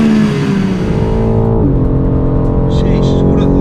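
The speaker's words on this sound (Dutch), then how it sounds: "Maar van buiten klinkt die auto oprecht een stuk beter dan verwacht." A 2021 BMW M3/M4 Competition on the Zandvoort circuit roars loudly up through the revs, then drops pitch sharply at a shift before pulling on, with brief talk over the engine near the end.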